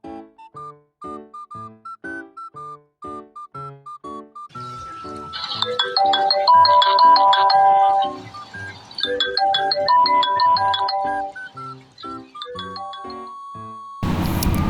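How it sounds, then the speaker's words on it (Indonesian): The default WhatsApp ringtone plays on a phone as a bright, tinkling melody of repeated chime notes, first as a sparse rhythmic pattern and then fuller and louder, ending in a brief burst of noise. "setelah kita tahu yang nada dering awalnya seperti itu"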